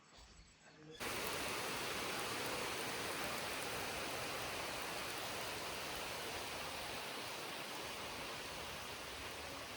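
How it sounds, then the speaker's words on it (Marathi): Rain falls steadily outdoors after a brief quiet moment, a dense, continuous hiss that starts abruptly and holds at an even loudness to the end. "पाऊस यायला लागला"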